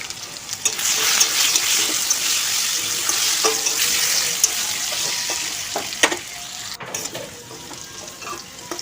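Potatoes frying in oil seasoned with salt and turmeric, a steady close sizzle with occasional stirring clinks and scrapes of a utensil in the pan, no talking.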